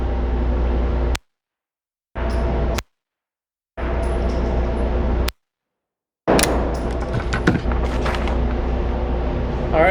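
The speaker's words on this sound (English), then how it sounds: "All right, second 3-round shot done." Pistol fitted with a Holosun HS407A3 red dot sight fires a three-round group at a range, three sharp separate shots spaced about two seconds apart, followed by handling clatter and rustling.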